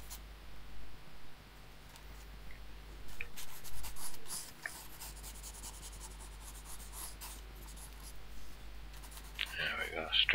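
A pencil scratches steadily across paper while sketching a figure, making a soft, continuous rasping with short strokes and brief pauses, fairly close and quiet.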